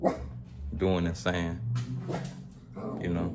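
A dog barks a few times in the background, partly masked by someone talking close by.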